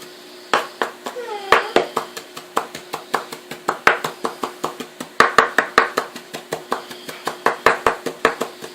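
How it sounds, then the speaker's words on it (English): A knife chops rapidly on a cutting board, a steady run of sharp close taps mincing fresh oregano leaves, with no talking. "chopping them like this. Basically just kind of mincing them up."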